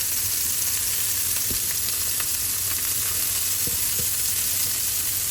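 Homemade burger patties bound with egg sear in a hot pan, giving a dense, even sizzle that holds steady throughout, with a few faint pops and no speech.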